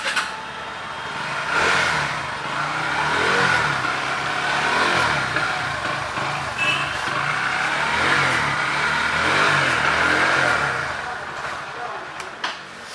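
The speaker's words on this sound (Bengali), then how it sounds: "তো গাড়িটার একটু সাউন্ডটা শুনে দিতা।" A 160cc NS motorcycle engine revs at a second-hand bike showroom in Siliguri, rising and falling in swells over a steady idle, with voices chatting nearby and background bustle.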